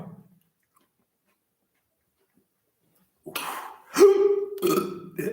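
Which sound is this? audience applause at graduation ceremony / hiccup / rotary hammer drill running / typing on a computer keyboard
hiccup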